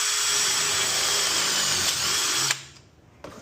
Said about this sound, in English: you got to get the drill bit spinning